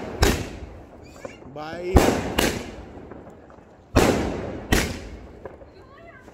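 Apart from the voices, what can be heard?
Diwali firecrackers and fireworks exploding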